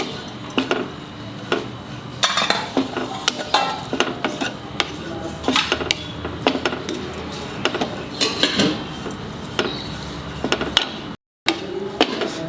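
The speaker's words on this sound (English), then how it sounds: "I have to dry roast this." Dry ingredients scrape and rattle against a pan as they are stirred, with irregular clinks and scratches repeating throughout, close by and fairly loud.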